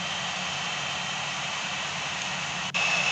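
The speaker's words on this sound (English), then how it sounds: "when the speed of the aircraft increases on the runway" A MiG-19 jet engine roars steadily on its takeoff roll in the video game Gunship 3, a loud continuous broadband drone with a brief dip near the end before it picks back up.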